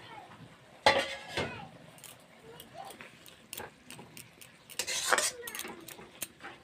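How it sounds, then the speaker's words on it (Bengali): A metal lid comes off a cooking pot of pea greens with a sharp clatter near the start, and another cluster of clinks follows a few seconds later amid quieter kitchen handling. "মজার জন্য ঢাকনাটা খুলে নিচ্ছি"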